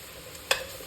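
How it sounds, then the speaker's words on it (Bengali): Spice paste for chicken kosha fries in oil under a low sizzle, with one sharp spoon clack against the pan midway, alone and close. "এখন দিয়ে দিব পেস্ট করে রাখা সবগুলো জিনিস একসাথে দিয়ে দিব, দিয়ে কষাবো।"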